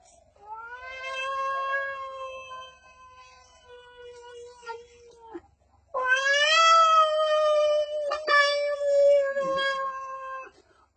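A man imitates a cat with a voice, producing two long drawn-out meows with rising and falling pitch, loud and close against a quiet background.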